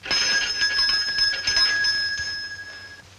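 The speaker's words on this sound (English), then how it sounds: "Sounded like a bell coming from somewhere." A bell rings from somewhere in an old radio drama, its bright sustained ringing tone heard a few times at moderate distance before fading, with no talk over it.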